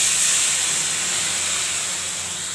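Spice paste poured into hot oil for a Bengali dish hisses in a loud, steady sizzle that stays even and close throughout, gradually easing slightly, with no voices.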